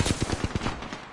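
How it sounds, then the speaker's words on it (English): Rapid automatic gunfire in a video game shooter, a fast even burst of shots that trails off, loud and close. "They spotted me. I'm taking shots."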